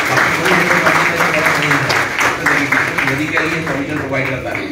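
An audience at a product training seminar in Ahmedabad applauds, a steady dense clapping that holds loud throughout.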